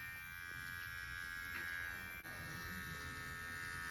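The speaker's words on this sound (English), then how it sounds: "I literally used a razor to shave the little extra bits, making it a little bit easier to stitch together." A razor shaves excess material off Grinch cosplay boots, a faint, steady electric buzz that runs unbroken for several seconds with only a momentary dip.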